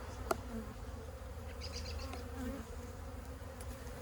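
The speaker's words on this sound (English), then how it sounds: "These bees are plenty busy." Honey bees buzz around an open hive in a backyard apiary as dandelions bloom, a soft, continuous, low drone with scattered individual bees passing close, and no talking.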